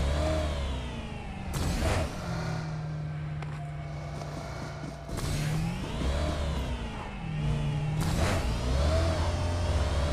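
Engine of a vehicle in a mobile video game revving and pulling away, mid-pitched hum rising and falling in a few surges with whooshing passes, fairly steady and close, no talk.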